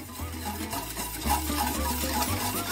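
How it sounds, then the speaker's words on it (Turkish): Cake batter of sugar and egg yolk being whisked in a bowl, a soft continuous scraping stir with a rhythmic swirling pattern, fairly quiet and without talk. "Güzelce çırpacağım."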